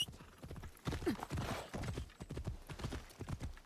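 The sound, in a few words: horse galloping and neighing in a video game (Assassin's Creed Shadows)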